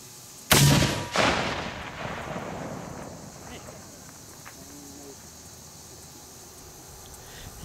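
A homemade bowling ball cannon fires in open countryside: one sharp, loud boom with a second thump right after, then a long rumbling decay fading into quiet outdoor ambience.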